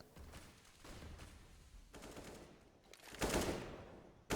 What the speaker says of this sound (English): Race through the AK of Victor. Burst fire from Han.